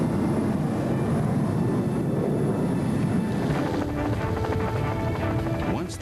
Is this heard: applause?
no